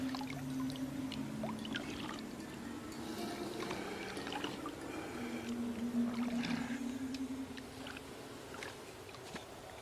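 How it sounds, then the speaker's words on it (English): An ancestor drinking from water in the video game Ancestors: The Humankind Odyssey, with steady flowing, lapping water sounds and a low tonal hum under the ambience, no talk. "I'm going to drink some water."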